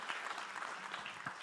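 Brief, faint applause from the audience at the Kabarak University International Health Conference: a soft, even patter of many hands clapping at a distance.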